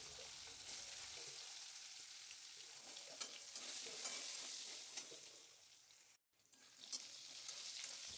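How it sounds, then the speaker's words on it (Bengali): Potatoes fry in hot oil with a steady, close sizzle and occasional stirring scrapes, briefly cutting out before the crackle resumes. "এই তেলের মধ্যে আমি এখন আলুটা দিয়ে নেব। আলুটা একটু ফ্রাই করব।"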